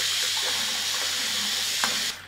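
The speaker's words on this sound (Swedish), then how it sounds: "Så lite varmt vatten." Warm tap water pours into a basin being filled to soak a wool cardigan, a steady close rush that cuts off abruptly at the end.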